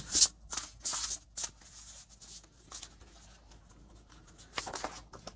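Oracle cards are shuffled and drawn close by, quiet papery riffles and slides coming in short bursts with brief pauses between them.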